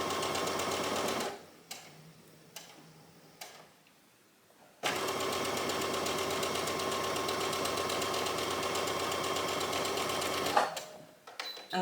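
A sewing machine stitches down a fabric channel on a knit bodice top, running in a few short bursts and then one long steady whirring run, close and loud, with no voices.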